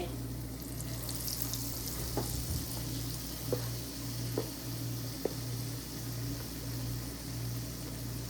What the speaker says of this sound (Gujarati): એવી રીતે કરીને બધા તળી દઈએ.